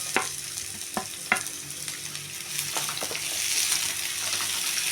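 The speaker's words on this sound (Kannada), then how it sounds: "ಸ್ವಲ್ಪ ಎಣ್ಣೆ ಕಾಯ್ದ ನಂತರ ಸ್ವಲ್ಪ ಜೀರಿಗೆ ಸ್ವಲ್ಪ ಸಾಸಿವೆ ಇವಾಗ ಒಂದು ಕಟ್ ಮಾಡಿ ಇಟ್ಕೊಂಡಿರೋದು ಈರುಳ್ಳಿ ಹಾಕೋಬೇಕು" Onion frying in hot oil with cumin and mustard seeds: a steady close sizzle, broken by a few sharp clicks and scrapes of stirring, that grows a little louder toward the end.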